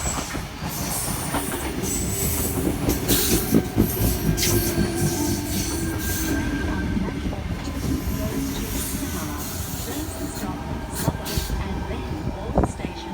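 A Sydney Trains Tangara passenger train rolls through Mortdale station, steady rumble and rhythmic wheel clatter with faint squeals, near and loud throughout, with muffled voices in the background.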